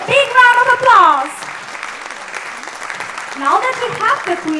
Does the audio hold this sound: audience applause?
yes